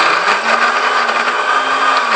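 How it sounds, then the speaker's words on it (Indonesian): A kitchen blender grinds fried onion and garlic into a smooth paste, a steady loud whirring motor drone running continuously and unchanged throughout, with no voices over it. "kita blender sampai halus."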